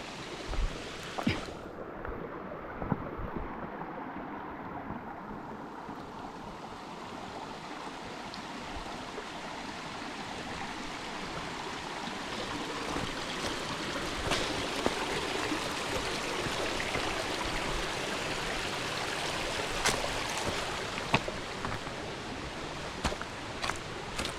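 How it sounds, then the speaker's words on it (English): A river on a Shenandoah hiking trail flows steadily nearby, a broad continuous rush and trickle of water that holds level throughout, with occasional small splashes and knocks. "So I just got to cross the river."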